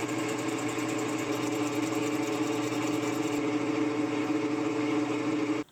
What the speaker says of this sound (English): They're going to go in the chuck, the 4-jaw chuck, and I'm going to machine them down to these marks so that they're square.